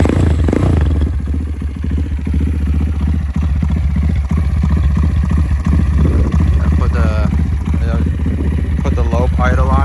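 A 205cc Honda Grom motorcycle engine runs loud and close, a rough continuous rumble with uneven pulses and clatter throughout.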